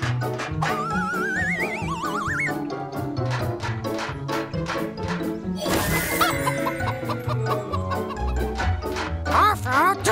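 Cartoon chickens cluck in a busy children's animation, with bright music, whooshing effects and character voices mixed over the repeated clucks.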